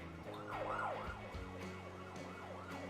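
Ambulance siren in the emergency-response video game Emergency 4, a repeated rising and falling electronic wail cycling steadily over a low vehicle hum, fairly faint and with no talking.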